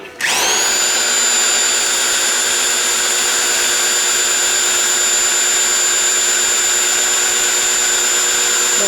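Old-school small block Chevy engine on a stand being primed, likely with a drill-driven oil pump: a loud, steady high-pitched whine that starts abruptly and holds constant without breaks, alone with no talk.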